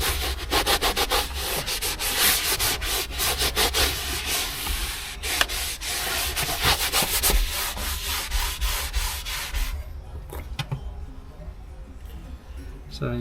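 A Scrub Ninja pad scrubs the paintwork of a rare HSV GTS during detailing, giving a steady, close rasping rub that runs continuously and eases off toward the end.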